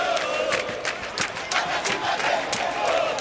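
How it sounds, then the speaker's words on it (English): Football fans cheering at Rio de Janeiro's Maracanã Stadium, a roaring crowd wash broken by repeated sharp bursts of chanting and claps, steady and loud all the way through. "Sitting here, I'm right in the middle of bright colors and the sound of cheering fans."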